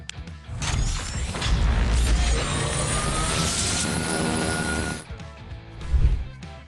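Busy electronic sound effects from a PAW Patrol transforming toy patrol cruiser: revving engine noises, whooshes and rising tones, loud and continuous for several seconds, ending with a short burst.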